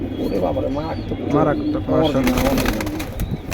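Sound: pigeons cooing

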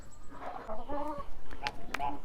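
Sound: hen clucking on free range

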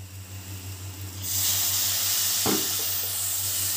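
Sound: spices sautéing in oil

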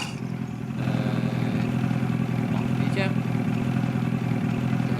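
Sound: engine running in video game Farming Simulator 22

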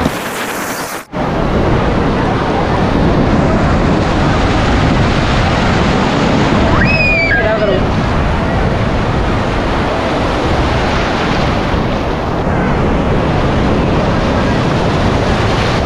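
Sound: sea waves on the beach

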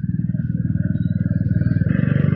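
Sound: motorcycle riding

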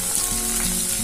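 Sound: stuffed brinjals sizzling in a pan

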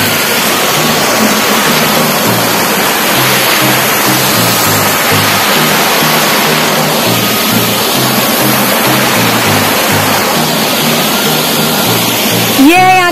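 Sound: waterfall with cold water in Himachal

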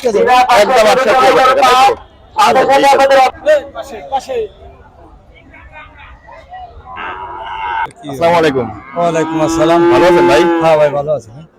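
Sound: Friesian cattle mooing at a farm

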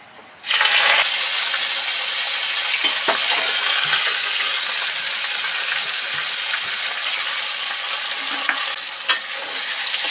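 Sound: coriander leaves and tomato sizzling in hot oil

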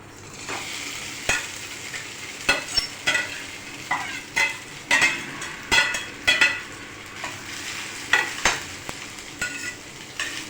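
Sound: finely chopped potatoes added and sautéed with cloves in pan

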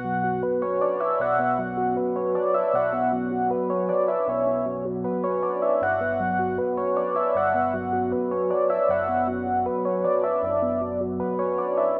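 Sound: June 6 synth with alternative preset and arpeggio

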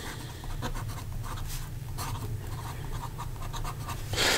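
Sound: writing with Sailor King of Pen Pro Gear fountain pen

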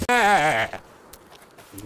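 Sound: sheep bleating in video game Jurassic World Evolution 2

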